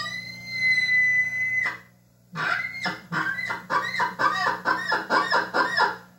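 High-pitched elk bugle made with an elk call, meant to mimic a young bull: a clear whistling tone held for over a second, then a rapid run of about eight choppy, grunting chuckles, close and loud.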